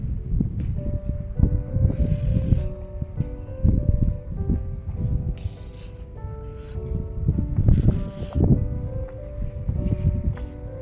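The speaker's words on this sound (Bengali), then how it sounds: "আর প্রচণ্ড হাওয়া দিচ্ছে" Strong wind gusts outdoors in Australia, buffeting the microphone in loud low rumbles that swell and ease, with rustling.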